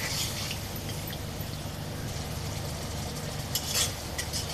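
Spice paste sautéing in a pan with a splash of water, giving a steady low sizzle and bubbling with occasional stirring scrapes, close and continuous, no voices.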